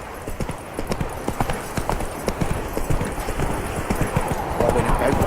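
Horse hooves pound in a quick, steady galloping rhythm from Roach in the video game The Witcher 3, close and clear, with a faint voice underneath.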